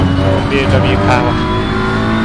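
A BMW race car engine in Assetto Corsa Competizione at the Nürburgring, a loud steady drone holding high revs, with someone talking over it.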